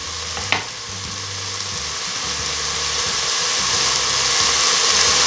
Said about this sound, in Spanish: Voy a revolver todo esto.